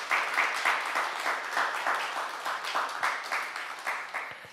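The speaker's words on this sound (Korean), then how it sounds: "우리 박수로 축복하겠습니다" A church congregation at Sinchon Areumdaun Church claps to bless a newborn baby during a worship service, with many hands clapping together in a rhythmic, pulsing pattern that slowly fades toward the end.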